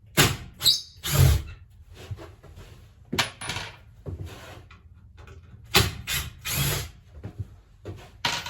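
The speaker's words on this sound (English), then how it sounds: "we're going to remove the screws on both sides of the refrigerator here" Screws are removed from a refrigerator inside a 1967 Clark Cortez RV, with short, close bursts of a power driver whirring, separated by pauses, metallic clinks and small handling knocks.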